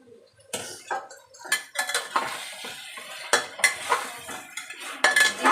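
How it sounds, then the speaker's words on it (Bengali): Potatoes going into a pot of chicken curry in a pressure cooker, with sharp clinks and scrapes of a metal spoon against the pot in irregular bursts and a light sizzle underneath. "এবার আমি এর সাথে আলুগুলো দিয়ে দেবো।"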